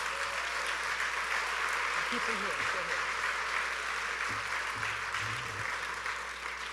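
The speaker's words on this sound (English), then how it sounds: "Let's give these students a big round of applause." Audience applause for students at the Jerusalem Prayer Banquet, a steady broad wash of clapping filling the hall throughout, with faint voices and low murmurs mixed underneath.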